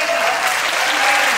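A conference audience applauds, loud and dense, a steady wash of many hands clapping close up with no pauses.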